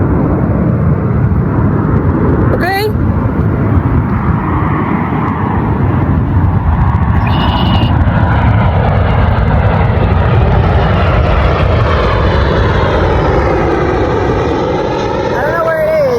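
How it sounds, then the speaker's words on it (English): A fixed-wing airplane passes overhead outdoors, a steady broad engine rumble that runs throughout and stays loud, with someone talking over it. "That's a second plane."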